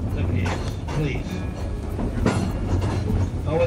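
A tourist train rolls along its rails on Kauai with a steady rumble and intermittent clattering from the wheels. Voices can be heard talking over the running noise throughout.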